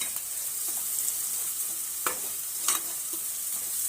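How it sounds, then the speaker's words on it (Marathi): Red chili powder, turmeric and salt being stirred into hot oil for a sprouted matki usal, a soft steady sizzle with a couple of brief spoon scrapes against the pan. "आता हे आपल्याला हे तेलात व्यवस्थित असं मिक्स करून घ्यायचं आहे"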